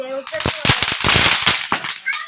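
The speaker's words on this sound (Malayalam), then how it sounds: "നമുക്ക് ഇഷ്ടമാണ് മക്കൾക്ക് പടക്കം പൊട്ടിക്കാൻ" Vishu firecrackers burst in a rapid string of loud, sharp cracks close by, crackling for about a second, with voices briefly heard before and after.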